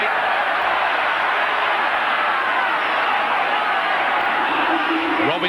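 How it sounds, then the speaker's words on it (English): Rugby league stadium crowd at a Leeds versus Wigan match, a steady broad roar of murmuring spectators with faint whoops, holding constant throughout with no single standout shout. "the crowd getting a little impatient now"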